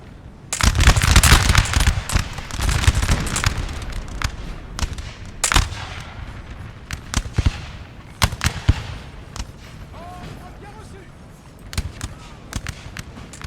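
Musket volleys in Napoleon Total War, a Napoleonic battle game: loud bursts of massed gunfire crackle in waves early on, then thinning scattered shots and distant pops.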